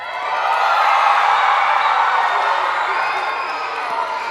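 A children's concert audience of the SCSO Classics for Kids show lets out a sustained wash of cheering, whooping and clapping for those from Sartell and Riverview, loud and steady before easing slightly.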